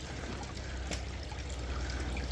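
Water trickles and splashes steadily over a small backyard pond waterfall edged with ice in cold weather, a continuous close wash of liquid noise with no voices.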